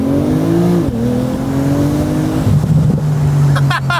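A Porsche 991 Turbo S accelerates hard, its engine note climbing in pitch, easing briefly at a shift, then pulling again as a steady, close, loud drone.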